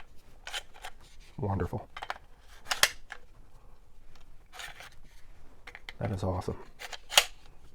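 A pistol magazine slides in and seats with sharp metallic clicks, twice, at a pistol fitted with an ambidextrous magazine release; someone talks briefly between them.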